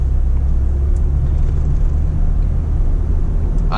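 A manual-transmission Jeep Gladiator driving, heard as a loud, steady, low cabin drone of engine and road rumble with no talk.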